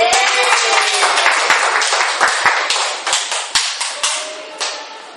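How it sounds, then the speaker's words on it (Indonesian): A classroom of elementary pupils claps loudly and close by, starting as a dense burst and thinning into a few scattered claps that fade out over several seconds. "Beri tepuk tangan dulu."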